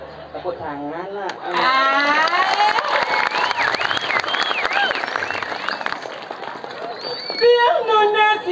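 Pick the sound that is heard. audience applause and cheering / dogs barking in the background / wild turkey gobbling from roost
audience applause and cheering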